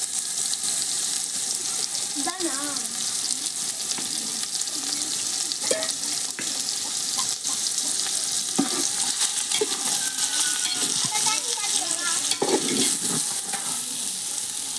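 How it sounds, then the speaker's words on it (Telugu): Chili powder, ginger-garlic paste and curry leaves being stirred in a hot pan with a steady frying sizzle and scraping of the spoon, close and continuous, for a tribal-style chicken biryani made with ration rice. "కారం వేస్తున్నాను అల్లం వెల్లి పేస్ట్ వేసి కరింపాకు కూడా వేసి కలుపుతున్నాను"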